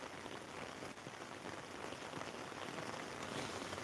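Rain falls steadily in Velichala village, a dense, even hiss of drops on surfaces with no pauses, fairly close and continuous throughout.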